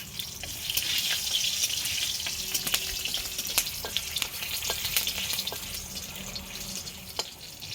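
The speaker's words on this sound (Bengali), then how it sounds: "তেলটা গরম হয়ে গেছে, এবার আমি ডালটা সাঁতাল দেব।" Bay leaves and dried and green chilies spit in hot oil as a dal is tempered, making a dense continuous frying hiss with scattered crackles and pops, near and steady, with no voices.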